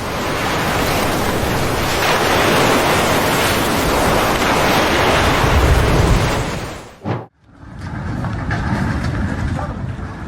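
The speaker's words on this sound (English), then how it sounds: "A small boat struggled against powerful ocean swells caused by a low-pressure system offshore." Heavy ocean surf and swells from an offshore low-pressure system roar loud and close, a constant rush of crashing water and wind that briefly drops out before surging back.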